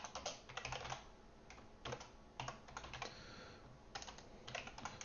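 Quiet bursts of computer keyboard typing, clusters of quick clicking keystrokes separated by short pauses, close but soft with no talking.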